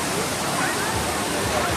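Balagbag Falls in Infanta, Quezon, roars as a loud, constant rush of falling water, a dense broadband wash that fills the whole short stretch close up.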